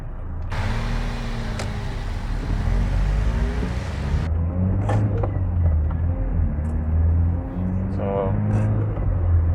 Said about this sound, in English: So now let's take this car to a drive.